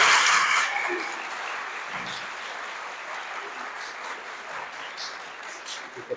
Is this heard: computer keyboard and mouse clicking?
no